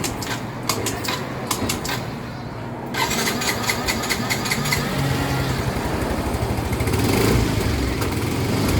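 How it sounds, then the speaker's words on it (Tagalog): Yamaha Mio i125 scooter engine idling rough and misfiring, an uneven sputtering chug with irregular ticks, a brief quieter gap, then a fuller running note that shakes unsteadily, close to the microphone. "May halong ginig. Parang nanginginig, ano? Palyado."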